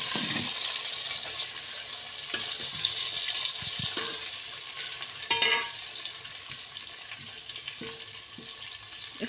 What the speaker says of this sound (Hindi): अब हम इसमें 2 अदद दरमियाने साइज़ के प्याज कटे हुए शामिल करेंगे, स्लाइस में कटे हुए इनको शामिल कर देंगे